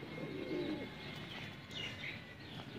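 Teddy pigeons coo softly on a rooftop in Sialkot, with a few low, rounded coos and faint chirps over a quiet outdoor background.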